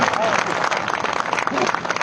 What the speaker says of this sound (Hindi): तो जोरदार ताली हमारे ये 3 अतिथियों के लिए बजाओ भाई।